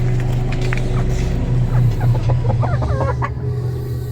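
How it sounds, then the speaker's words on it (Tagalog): Chickens cluck and chatter in a run of short, overlapping calls that rise midway, heard close over a steady low rumble. "Tingnan natin yung mga manok ito mga loks."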